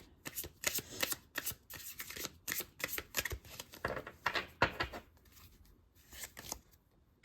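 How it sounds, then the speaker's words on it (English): A deck of tarot cards is shuffled vigorously by hand in repeated riffling bursts, each a crisp papery flutter separated by short pauses, close and fairly quiet. "Let's shuffle them really good."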